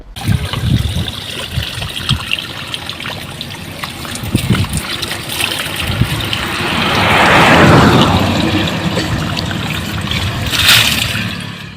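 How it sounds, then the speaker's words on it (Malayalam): Water rushes and trickles from a burst Water Authority drinking water pipeline by a road, a loud continuous gushing flow that swells midway, with scattered background knocks and noise. "വാട്ടർ അതോറിറ്റിയുടെ കുടിവെള്ള പൈപ്പ് ലൈൻ പൊട്ടി ദിവസേന ലിറ്റർ കണക്കിന് വെള്ളം പാഴായി പോകുന്നത്"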